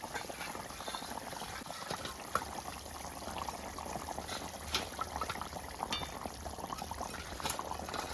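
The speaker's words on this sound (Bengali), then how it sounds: "এদিকে আমার ঝোলটাও ফুটে গেছে।" Pangas fish curry broth boils in a pot with a steady, faint bubbling and occasional soft pops, heard alone without any voices.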